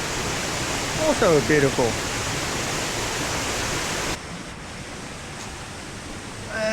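A waterfall in Khao Lak rushing steadily as a broad, constant roar close by, with a brief spoken remark over it.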